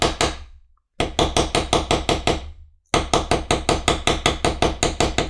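A mallet strikes a leather tool in rapid, evenly spaced sharp taps while tooling and beveling a carved poppy design on a leather book cover, in three bursts separated by short pauses, close and crisp.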